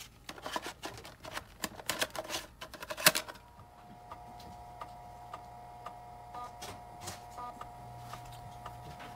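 A floppy diskette drive reads a Sony Mavica disk, giving a quick burst of rapid ticking and clicking, then a steady faint whirring hum with occasional soft ticks, quiet and close.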